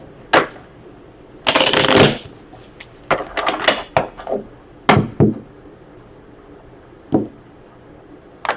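A deck of tarot cards is shuffled in close, crisp bursts, with one longer riffle followed by several shorter slaps and taps separated by quiet pauses, and no one talking.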